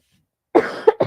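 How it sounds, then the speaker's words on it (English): A few harsh coughs close to the mic after a moment of silence, in quick succession with a brief gap before the last. "Sorry for all the coughing."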